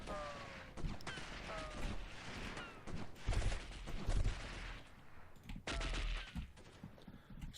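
Gunfire in the 1998 video game Delta Force: sharp single shots and rapid automatic bursts crack in clusters, some loud and close, with short pauses between volleys.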